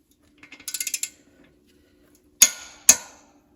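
Ratchet wrench tightening nuts on an Orcal scooter engine: a quick run of close, crisp ratcheting clicks, then two sharp metallic clacks after a pause, quiet surroundings.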